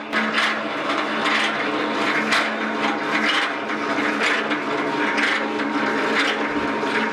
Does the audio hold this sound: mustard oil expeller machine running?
yes